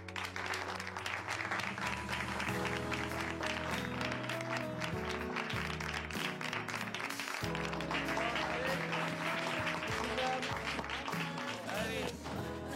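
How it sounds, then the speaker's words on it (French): A class applauds its guests in a school setting, with steady clapping that runs over loud music throughout. "Et on les applaudit, non?"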